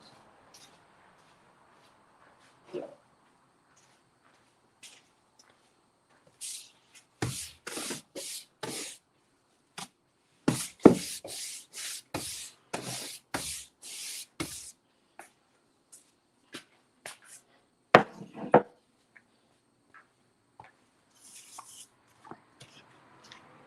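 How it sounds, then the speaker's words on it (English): A Cricut craft piece gets brushed off in quick bursts of dry rubbing and scraping strokes, clustered in rapid runs with short pauses between, close and fairly crisp in a quiet room. "I'm just going to brush that off real quick."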